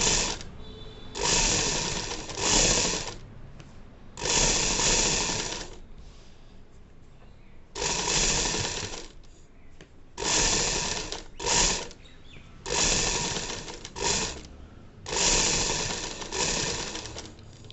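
Sewing machine stitching piping onto a kameez front neckline, running in loud close bursts of rapid mechanical whirring separated by short pauses, with no voices.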